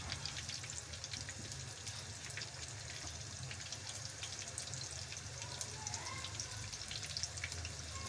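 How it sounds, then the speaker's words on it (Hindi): Gram-flour-coated chicken pakora fry in hot oil, a steady, close sizzle with fine crackling that runs evenly throughout with no talking. "एक साइड से अच्छे से फ्राई कर लेंगे, फिर साइड से कर देंगे।"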